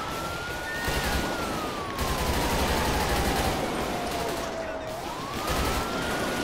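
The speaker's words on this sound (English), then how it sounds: "I've been getting shot up all freaking day." Rapid gunfire crackles through a shootout in GTA 5, steady and dense over a wailing police siren that rises and falls throughout, with voices mixed in.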